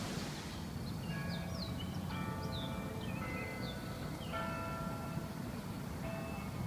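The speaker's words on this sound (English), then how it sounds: "There's a bell off in the distance." Distant bell ringing outdoors on a nature stroll, a faint melodic chime of repeating tones sounding over a soft background hum, with no talking.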